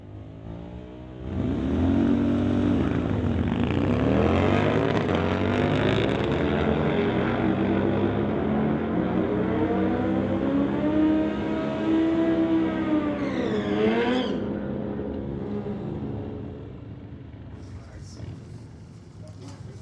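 A 2000 Suzuki motorcycle on a drag strip launches and revs hard, its engine tone rising and sweeping through gears for over ten seconds before fading into the distance, with a commentator talking throughout.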